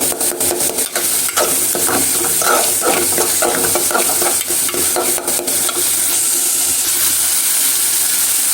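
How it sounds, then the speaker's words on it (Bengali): Onions frying in a pan with cumin powder and spices for a dried-fish curry, stirred briskly so the steady loud sizzle is broken by repeated scraping strokes of the spoon against the pan. "পেঁয়াজগুলো আস্তে আস্তে হয়ে থাকলে ভালো লাগে না, তাই একটু বাড়ি দিয়ে নিতে হবে"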